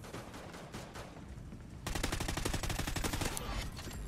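Light machine gun fire in Call of Duty: Ghosts, a dense run of rapid automatic shots that grows louder and more sustained in the second half over constant game noise.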